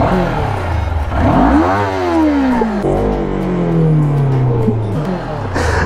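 Kawasaki Ninja two-cylinder motorcycle engine revving, loud and close, rising in pitch through a couple of sharp throttle blips before falling back to a steady idle.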